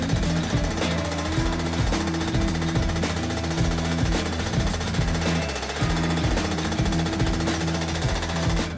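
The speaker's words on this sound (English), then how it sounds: "what we do here is adjust these hammers to hammer it in this fashion" Machine hammers pound a Sabian cymbal to shape its profile in a cymbal factory, a loud, continuous rapid clatter of metallic strikes with no voices.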